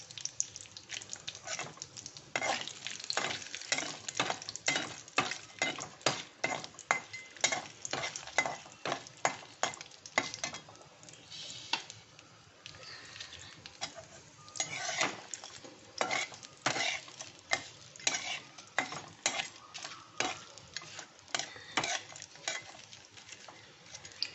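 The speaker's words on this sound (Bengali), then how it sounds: "আর কিশমিশও দিয়ে দিচ্ছি এটা একটু নেড়ে নেব একসাথে" Cashews and raisins stir-fry in a pan of hot fat for a Puri-style Kanika bhog sweet rice, with a steady sizzle under repeated close scraping and clinking of a spoon against the pan.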